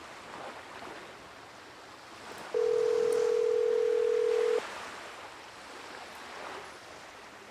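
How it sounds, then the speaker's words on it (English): In the Nancy Drew game Danger on Deception Island, a telephone dial tone rings out as a single steady, loud tone lasting about two seconds over a soft rushing, surf-like background. "Let's call Bess and George now"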